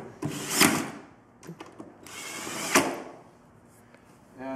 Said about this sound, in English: drive all the screws in.